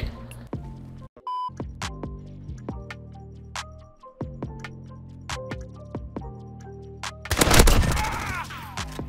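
Rapid bursts of MP5 submachine gun fire in a first-person shooter round, sharp repeated cracks in quick clusters, close and loud, with a louder chaotic blast of noise near the end.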